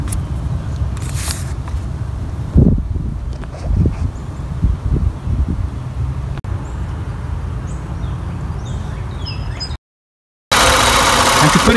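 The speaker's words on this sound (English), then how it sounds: "I've been running this car now for about 40 minutes. It has stayed at a normal driving temperature, the gauge anyway, and the fans have come on." A 2002–2006 Toyota Camry's 3.0L 1MZ-FE V6 idles steadily at normal temperature with cooling fans whirring, a constant low hum with a few knocks and clicks, then a brief gap and a louder rushing fan noise.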